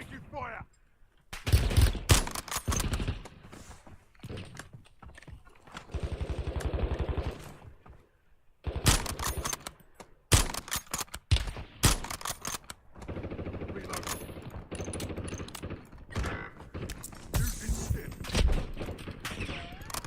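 Bursts of Call of Duty gunfire crackle in rapid clusters, some close and sharp, others rattling like automatic fire, with a player talking between and over the shots.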